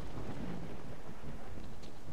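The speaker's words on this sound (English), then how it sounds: "Remains rainy." Steady rain with rumbling thunder in the Pripyat area of a survival shooter game, a continuous dense wash of rainfall with low rolling rumbles throughout.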